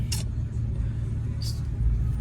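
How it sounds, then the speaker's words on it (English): A parked car warms up with its engine idling in a steady low rumble, broken by two brief airy hisses. "we just gonna warm the car up"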